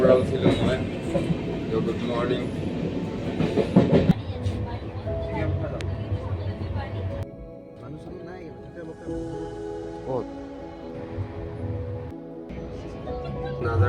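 A passenger train running hours late rumbles and rattles steadily from on board, a constant carriage drone that dips midway, with people talking over it throughout.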